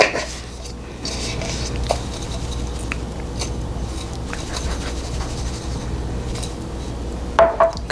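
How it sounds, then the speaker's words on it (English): A metal spoon stirs a homemade all-purpose seasoning mix with paprika in a bowl, producing a soft continuous scraping and patter with occasional light clinks, close and fairly quiet over a faint steady hum. "use that spoon to mix it up a little bit"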